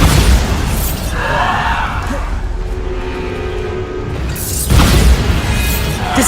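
Blasting spell Bombarda detonating in the Hogwarts Legacy video game, a loud booming burst at the start and another a few seconds later, with rumbling, crashing game noise between them.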